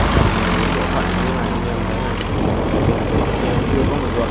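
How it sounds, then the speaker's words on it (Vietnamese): A Komatsu PC40-7 mini excavator engine idling smoothly, giving a steady low hum with a continuous even rumble and no talking. "Anh em thấy máy nổ khá là êm không ạ?"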